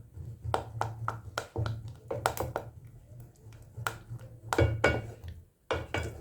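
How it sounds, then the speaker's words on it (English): Spoon scraping and knocking against a pot while stirring Toto Afya baby porridge after cooking, a run of short close taps and scrapes in uneven rhythm over a low steady hum. "I'll keep stirring to cool it down"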